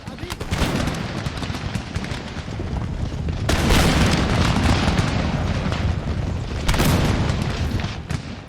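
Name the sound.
cannon fire in video game Empire Total War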